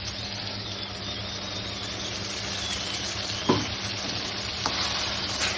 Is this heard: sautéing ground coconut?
yes